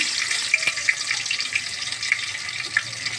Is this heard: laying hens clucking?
no